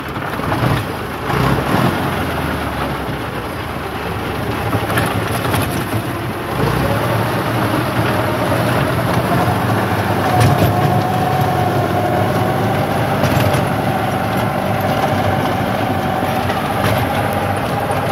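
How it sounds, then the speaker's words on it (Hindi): 1986 English-built Massey Ferguson 265, a 70 HP tractor, engine running with a continuous low rumbling drone and mechanical rattle, fairly loud and steady, with a faint whine rising partway through. "70 HP ट्रैक्टर है जी"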